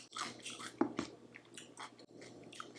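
Homemade rosé wine pickled onions crunched while chewing, close and quiet, several crisp bites and squishy chews in an irregular rhythm, with no talk over them.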